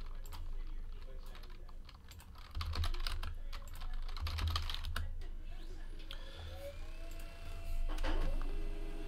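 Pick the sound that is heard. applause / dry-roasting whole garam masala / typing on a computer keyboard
typing on a computer keyboard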